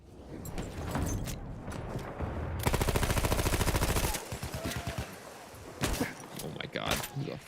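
Gunfire from a Burton LMR rifle in a Battlefield 1 match: a burst of rapid shots, then scattered single cracks and other combat noise, with a player talking throughout.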